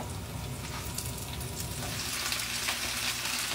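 Pui shaak (Malabar spinach) greens hitting a hot pan, giving a steady, dense sizzle with a soft watery crackle that holds close and fairly loud through the whole moment, no voices.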